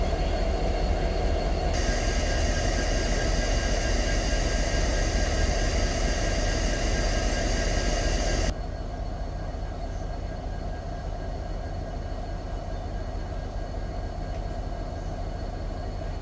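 Norfolk Southern NS 1776, painted with the Liberty Bell, and Union Pacific UP 1776, carrying American flag and 250th anniversary decals, pass as locomotives with a loud, steady rumble and roar that drops to a lower sustained rush partway through.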